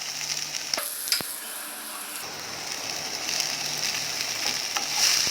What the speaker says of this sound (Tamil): இப்போ இதில் வெங்காயத்தை போட்டுடலாம்